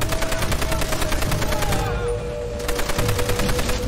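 Rapid automatic gunfire in Call of Duty: World at War battle, a dense, loud, continuous stream of shots that barely pauses, close and harsh throughout.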